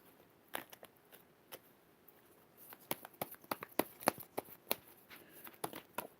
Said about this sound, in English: Shuffling, like, way off camera.